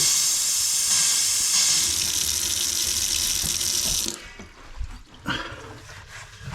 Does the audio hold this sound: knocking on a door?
no